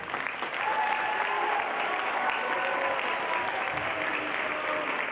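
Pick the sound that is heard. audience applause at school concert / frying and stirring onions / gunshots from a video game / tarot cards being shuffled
audience applause at school concert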